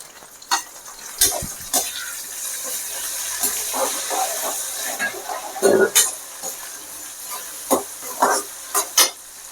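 Tomatoes tipped into a hot frying pan for Chettinad brinjal mandi, giving a steady sizzle with scattered scraping and stirring clatters, several sharp knocks near the end.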